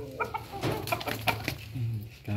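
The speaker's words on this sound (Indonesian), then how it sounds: "Ini jenis ayam Satria Sinekti" A four-month-old Satria Sinekti Bangkok rooster gives short clucks and throaty calls, close by, with brief bursts of background noise between them.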